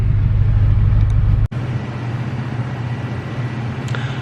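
A shop truck engine idles close by with a steady low rumble, dropping out briefly before settling back into the same even drone.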